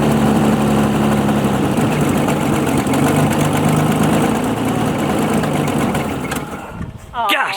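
A 1988 Ford Ranger idles steadily and loudly up close with a low, even drone and a faint idle-air-control fault, then the engine note drops away near the end.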